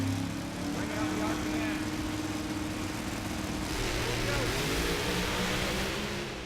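Supercharged Chevy Camaro drag race car from the Alan Johnson Racing team roars with a steady, heavy engine drone, while an announcer's voice talks over the run.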